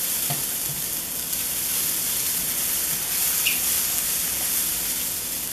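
Vegetables sizzle softly in a pan as they are stirred and gently cooked for summer rolls, a steady, even hiss with a few faint scrapes and no talking.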